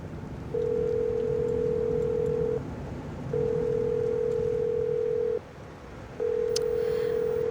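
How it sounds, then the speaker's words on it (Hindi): A phone call rings out over speakerphone as a repeated long steady electronic tone, three evenly spaced beeps about two seconds each with short silent gaps, loud and clear. "आमिर को फिर कॉल करो, स्पीकर ऑन कर दो।"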